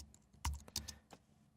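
Keys clatter on a computer keyboard in a short burst of several quick, close taps with uneven spacing, heard alone without talk.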